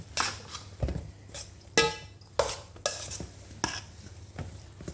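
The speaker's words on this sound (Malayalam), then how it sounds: "എല്ലാം കൂടി ആഡ് ചെയ്ത് കൊടുത്തിട്ട് നമുക്കിതൊന്ന് മിക്സാക്കി കൊടുക്കാം." Tabbouleh salad ingredients tossed together in a bowl, with a series of distinct scraping and clinking stirs of a utensil against the dish, close and fairly quiet, each stroke separated by short pauses.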